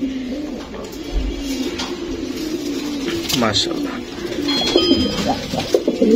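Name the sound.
pair of blue-eyed pigeons cooing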